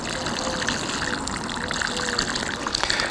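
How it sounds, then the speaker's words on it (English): Water poured from a watering can onto freshly transplanted cabbage plants in a garden bed, a steady close splashing trickle of a diluted root-stimulant mix soaking the soil, running continuously throughout. "water the plants with the kangaroots,"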